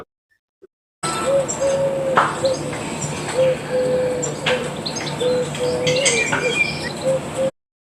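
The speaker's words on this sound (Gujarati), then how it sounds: "DOVE ડવ એટલે હોલો." A dove coos in a series of soft, low calls, repeated steadily at close range over a faint background of chirps and rustle, with no talking.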